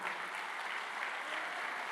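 A church congregation at a Spanish-language service claps for the Lord in steady, dense applause. The many hands blend into an even wash of sound with no talk over it.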